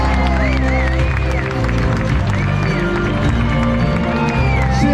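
A large street protest crowd in Sydney claps and cheers for its organiser, a dense continuous roar of applause under a loud amplified voice calling out over it.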